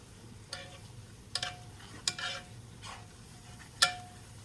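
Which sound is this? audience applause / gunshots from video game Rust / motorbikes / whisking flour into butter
whisking flour into butter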